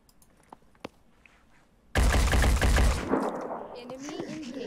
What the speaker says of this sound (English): I think I might just shoot that guy.